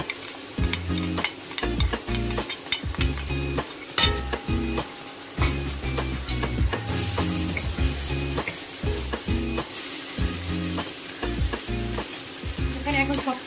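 Noodles frying and being stirred in a pan as liquid spices and ground black pepper go in, with steady loud sizzling and repeated scraping, clinking stir strokes throughout.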